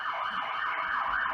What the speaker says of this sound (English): sorry, there's a police car driving by